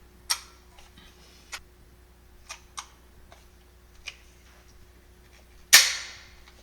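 Daisy 717 air pistol fired with training pellets at a 10-meter target, bench rested: a few small, sharp clicks spread out, then one louder crisp snap with a short decay near the end, heard alone in a quiet room.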